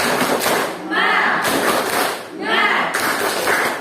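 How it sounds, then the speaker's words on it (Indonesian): A classroom of students doing a rhythmic spirit clap during a biology lesson, with loud bursts of group clapping and chanting voices repeating in a steady pattern about once a second. "Ayo, sama-sama kita tepuk semangat untuk membangkitkan semangat kita belajar ya."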